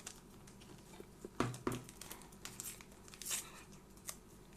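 Packets of vanilla and baking powder crinkle and tear open beside a cake-batter bowl while making a Turkish mother's-style cake, with soft rustling, a sharper rip near the middle, and light scattered crackles, fairly close and quiet.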